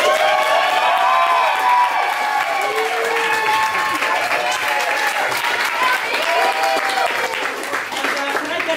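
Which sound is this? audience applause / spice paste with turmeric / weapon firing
audience applause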